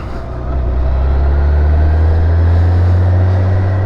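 A BMW K1600GTL motorcycle's engine runs loud and close, a strong steady low drone that swells slightly after the first half second and holds firm, with no voices over it.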